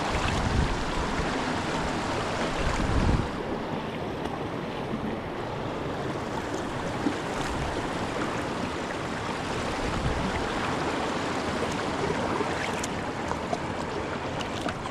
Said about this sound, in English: Oh, there's a little waterfall under here.